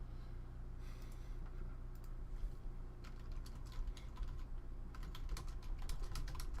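Typing on a computer keyboard in a quiet room: quick, soft clicking bursts, sparse at first and then denser, close to the microphone with no talking.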